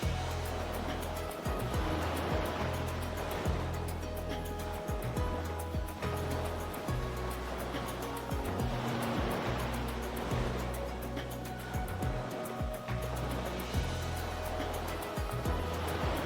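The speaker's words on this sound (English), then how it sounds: "We're definitely by the ocean, there's no doubt about that." Ocean waves wash steadily onto a beach in the Nikke video game, a continuous surf roar with gentle swells rising and falling, with no voices over it.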